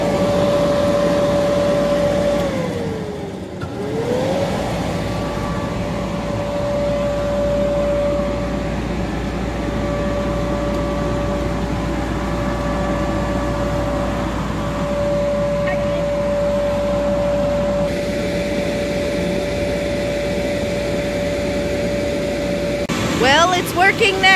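A blower for an inflatable bouncy house hums steadily as a constant drone with a fixed whine, briefly dipping in pitch once, while people talk over it.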